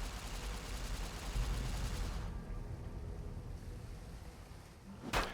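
Gunfire from Fallout: New Vegas, with a dense, continuous burst of shots and rumble for about two seconds. A quieter noisy stretch follows, then one sharp loud report near the end.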